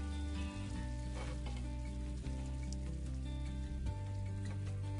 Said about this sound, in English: I'm going to push all of my paillards up to one side of the skillet